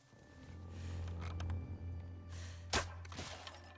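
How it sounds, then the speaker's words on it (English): In The Last of Us Part II, an arrow strikes a helmet with one sharp, brief shattering crack near the end, set against a steady low hum and scattered faint noises. "I love you hear the little shatter because they're wearing helmets"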